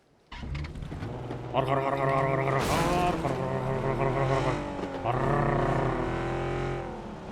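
A car engine in PUBG revs and roars with rising and falling pitch, tires squealing briefly, loud and steady throughout like an arcade racing car.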